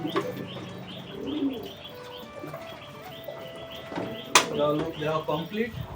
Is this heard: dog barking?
no